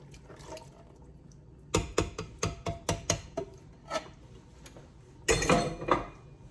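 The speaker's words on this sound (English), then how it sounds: "Now let's add our 15-ounce can of charro beans." Canned charro beans going into a pot of pulled pork chili: a run of clinks and clanks from the can and metal pot, then a wetter, louder plop and scrape near the end.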